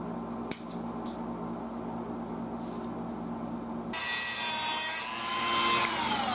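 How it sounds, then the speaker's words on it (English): Cutters snip the metal terminals off a small transformer: one sharp snap near the start over a steady hum, then a louder burst of rough scraping and rubbing noise toward the end. "we do not need these terminals, so I'm going to just go ahead and cut them off of there"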